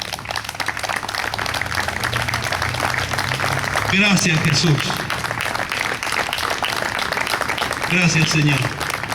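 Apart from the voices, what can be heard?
church congregation applauding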